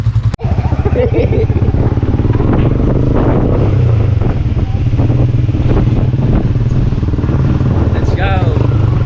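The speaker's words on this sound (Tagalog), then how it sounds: "Pinag-drive pa ng motor na." A motorcycle engine drones steadily while riding, with heavy wind buffeting the microphone throughout and people talking over the ride.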